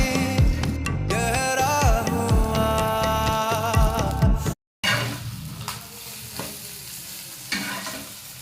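Beaten egg poured into hot oil for a bread omelette, giving a strong, steady sizzle with stirring scrapes, preceded by a few seconds of music.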